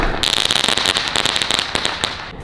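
An 8 sky shot firework goes off outdoors with a dense rapid-fire run of loud crackling bangs and pops that carries on for a couple of seconds, then tails off.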